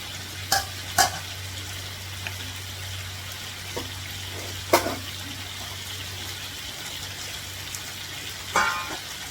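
Fish fries in oil with coriander powder, giving a continuous low crackling sizzle, punctuated by a few sharp clinks and scrapes of a spatula against the pan, nearby and unaccompanied by speech.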